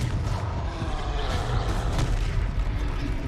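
Confringo fire-spell blasts in a wizardry game, dense booming explosive thuds and rumbling crackle running continuously at close range with heavy low-end impact throughout.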